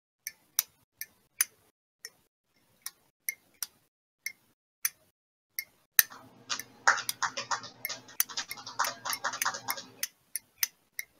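Metal lid of a Zippo lighter clicking open and shut in a steady run of sharp, isolated ticks, followed by a burst of denser rustling and clatter, then a few more clicks at the end.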